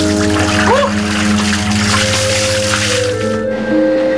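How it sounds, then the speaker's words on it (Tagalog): Sudden splash and slosh of water, loud and close, with a wet squishing quality lasting a few seconds while voices and background music carry on. "Biglang tubig."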